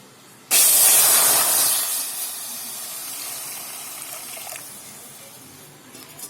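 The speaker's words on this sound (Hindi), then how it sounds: "इसमें हमने सबसे पहले जो चीज़ डाली है वो है पानी।" Water is poured into a hot kadhai over a lit flame for cooking dal, erupting in a loud, close hiss and sizzle of steam that gradually settles into a steady, softer bubbling hiss.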